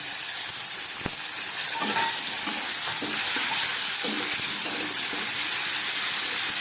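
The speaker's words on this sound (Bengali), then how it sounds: "খুব ভালো করে কষিয়ে নেব দু তিন মিনিটের মতো" Spice paste of ground cumin, coriander, dried chilli and black pepper with slit green chillies sautés in a pan for a Bengali fish curry, a steady close sizzle and hiss with rhythmic scraping stirs throughout.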